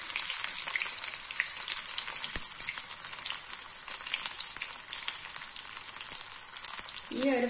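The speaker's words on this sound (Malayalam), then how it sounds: "നമുക്ക് എല്ലാ ഒന്നും പീസും ഇതുപോലെ വറുത്ത് കോരിയെടുക്കാം" Onion rings deep frying in hot oil give a steady, close sizzle with fine crackling throughout, heard alone.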